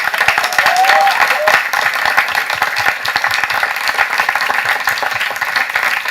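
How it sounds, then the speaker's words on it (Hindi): An audience at a music and entertainment program claps loudly and steadily throughout, with a brief voice or whoop near the start and the clapping staying strong to the end. "एक बार जोरदार तालियां हो जाए प्लीज."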